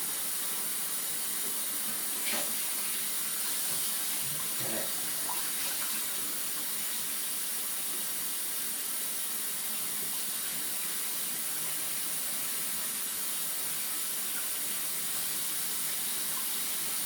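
Warm tap water at about 110 degrees runs steadily from a faucet into a kitchen sink, a continuous close hissing rush with a few faint clinks, no talking.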